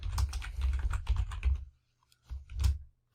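Bursts of rapid typing on a computer keyboard, close and fairly loud, with a short pause before a final flurry of keystrokes and no talking.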